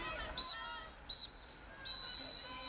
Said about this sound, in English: And there is the three-quarter time whistle.